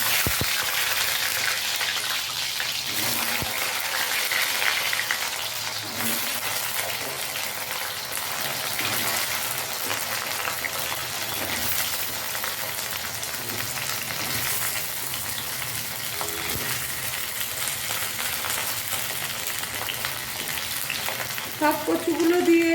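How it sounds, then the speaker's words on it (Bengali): Raw taro root pieces fry in oil with a dense, continuous hissing sizzle that holds steady throughout, with faint stirring scrapes now and then. "সব কচুগুলো দিয়ে আমি এবার ভেজে নেবো"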